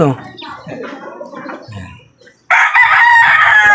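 A Texas rooster crows loudly and close by, one long drawn-out call, following softer clucking and a quiet voice.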